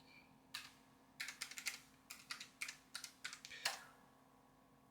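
Someone types a password on a computer keyboard in short uneven bursts of light clicking key taps, close and quiet, with no talking.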